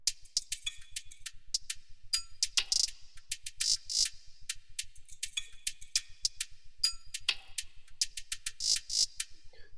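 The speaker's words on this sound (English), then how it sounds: "the next thing I added was this hi-hat loop" A crisp hi-hat loop for an Afrobeat track made in FL Studio ticks and shuffles in a bright, syncopated repeating pattern over a faint low pulse, playing alone.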